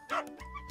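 A golden retriever puppy giving a short, high yipping bark followed by a faint whine, close by and brief.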